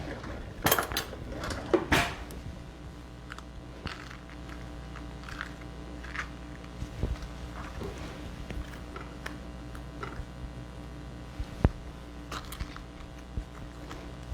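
Spoon digging and scooping into the flesh of a pineapple, with clinks and scrapes against a dish at the start and then steady soft scraping throughout.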